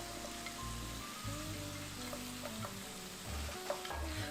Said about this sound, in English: you're going to sear those potatoes, I would say more to 5 to 6 minutes